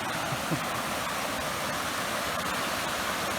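Steady, broadband rushing of fast-flowing river water, loud and continuous throughout with no other sounds standing out.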